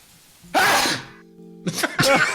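A single loud, sharp sneeze bursts out, followed by a short pause and then a couple of quick, breathy bursts afterward.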